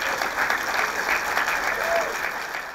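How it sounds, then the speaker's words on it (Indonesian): Steady applause from a studio audience on an Indonesian talk show, dense and continuous for a few seconds at even loudness, with a faint voice briefly audible under the clapping. "Tepuk tangan dulu dong"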